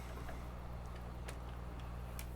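A slightly underpowered tractor in Farming Simulator 22 hums as a low, steady engine drone, quiet and unbroken, with no voices over it.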